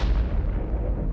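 An explosion goes off when a spring-driven firing pin strikes a detonator: one deep, rumbling boom that fades out over about a second.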